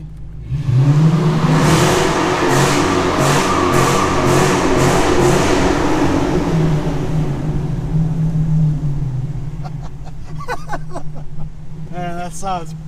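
A 2015 Dodge Challenger R/T roars loudly nearby as its engine revs and the car accelerates hard, the deep note rising and then fading, with people talking excitedly at the end.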